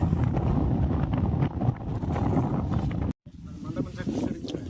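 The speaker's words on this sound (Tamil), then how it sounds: "காத்து பயங்கரமா அடிக்குது" Strong wind roars across the microphone at Bolumalai hill fort in Kaveripattinam, a loud, continuous low buffeting that drops out for a moment near the end and then resumes.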